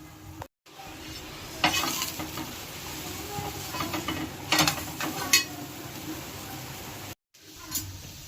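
Sarvapindi, a Telangana rice flatbread, cooks in a pan on a stove with a steady low sizzle and a few brief scraping or handling bursts, with short silent gaps.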